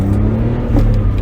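A 2008 BMW Z4 with the 2.5 liter inline engine gives a brief, loud, close engine drone with a steady revving tone, alone without voices.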